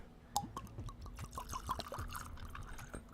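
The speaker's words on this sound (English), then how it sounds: "Let's pour a little bit, okay?" Garrison Brothers Lady Bird whiskey poured into a glass, a close, quiet run of trickling and splashing liquid with a few distinct drips, heard without talk.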